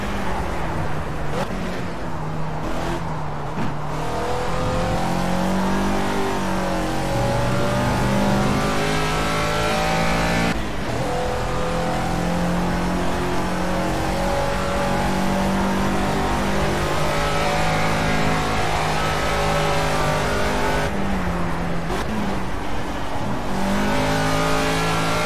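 A Caterham Super Seven race car in Project CARS at Donington, its engine droning and revving loudly throughout a lap, pitch rising and falling through gear changes and braking for corners, with no talking.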